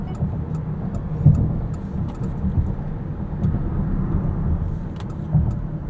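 A 2023 Mitsubishi Outlander PHEV coasting off throttle under full regenerative braking: a steady low road and cabin rumble, fairly loud and even throughout, with no voices.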